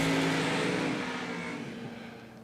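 Drag race cars at a $250K event blast off side by side, a loud broad roar of revving engines that fades gradually as they pull away, with no talk.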